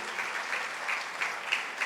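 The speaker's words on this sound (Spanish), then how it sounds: "yo creo que les reconocemos con un aplauso por su esfuerzo" A church congregation claps in steady applause, a brief even patter of many hands heard from a moderate distance.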